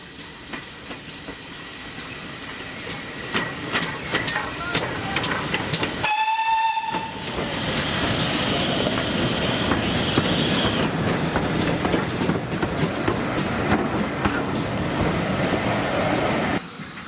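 A steam locomotive, GWR Manor class Foremarke Hall, rumbles past with steady clattering wheels and puffing at Winchcombe station; a sharp whistle blast cuts in briefly partway through.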